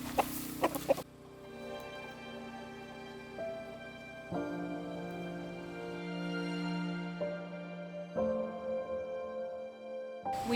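Silkie roosters kept in a separate pen cluck and call in a run of steady, drawn-out notes that shift in pitch, fairly close and loud with no talking.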